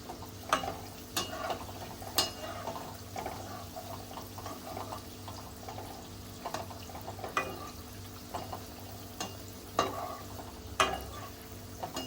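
Amaranth-leaf and potato pakoras fry in oil with a soft, continuous bubbling sizzle, punctuated by occasional sharp clinks of a utensil moving them in the pan.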